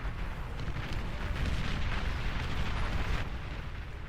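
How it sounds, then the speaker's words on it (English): Heavy explosions from long-range plasma cannon fire in the real-time strategy game Beyond All Reason, a dense, continuous rumbling barrage of booms and bursts that stays loud for the whole stretch. "Long-range plasma cannons are targeting your area."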